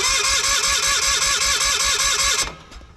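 An old Onan engine on a Miller welder chugs in a fast, even rhythm, loud and close, then abruptly cuts out and falls nearly silent.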